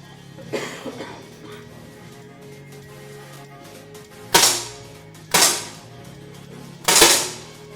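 Final shots fired in a shooting competition: three sharp, loud reports with short decays spaced about a second apart in a quiet hall, preceded by a few fainter muffled knocks.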